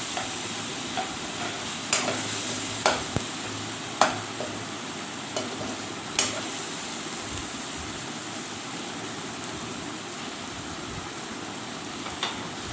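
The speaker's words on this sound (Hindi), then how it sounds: "अब इसको 1 मिनट तक भून लेंगे इन सब मसालों को ताकि इसकी अच्छी सी खुशबू आने लग जाए" Ground spices, including dried coriander and salt, roast in a pan with a soft, constant sizzle, broken by occasional sharp clicks and scrapes of a spoon stirring them before okra is added.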